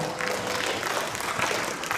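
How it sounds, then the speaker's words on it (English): A crowd claps together in a steady burst of applause, a dense patter of hands that holds at an even level throughout. "Give them a round of applause."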